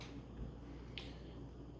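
A child's hand claps twice, sharp and short, about a second apart over a quiet room hum.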